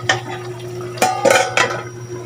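A lid set down over a cooking pot, giving a few brief metal clanks and scrapes up close, with a low steady hum beneath.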